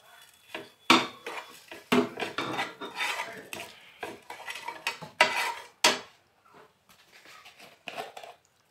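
A utensil stirs mustard paste into a pan of pomfret fish with the gas switched off. It makes irregular scraping and clinking strokes, fairly close and loud, with short pauses in between and no talking.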